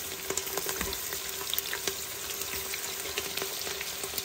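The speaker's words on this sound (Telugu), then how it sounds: "ఉల్లిపాయలు బాగా వేగాలండి దీనికి మాత్రం, అసలు కాంప్రమైజ్ అవ్వకుండా ఎర్రగా వేయించాలి." Onions fry in hot oil in a pan for chicken pulao, making a steady, close, crackling sizzle with small pops scattered throughout and no speech.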